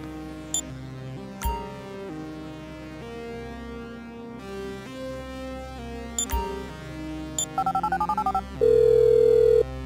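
A phone call is dialed in Grand Theft Auto V: a few sharp clicks, a rapid run of keypad tones, then a steady ringback tone, heard over a low game ambience.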